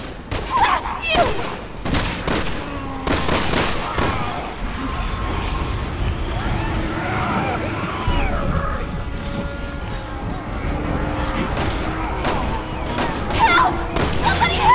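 Rapid gunfire from Resident Evil 6 combat in Tall Oaks City, with repeated sharp shots cracking over a dense, loud din of screams and chaos, and voices shouting throughout.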